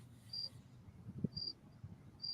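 Crickets chirp in short high bursts repeated at a steady interval, faint over a low background hum.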